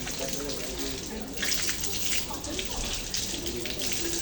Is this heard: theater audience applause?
no